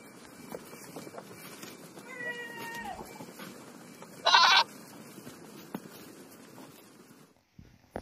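A single short, bright bleat, like a goat's, rises over a low, noisy background, brief and moderately loud, with a few fainter cries before it.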